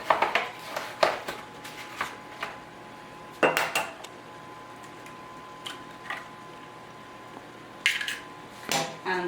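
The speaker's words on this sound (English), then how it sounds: "And we're going to whisk it with a fork." A fork whisks milk and an egg in a mug, with bursts of quick rhythmic clinking against the ceramic separated by brief pauses, close and clear, no talking.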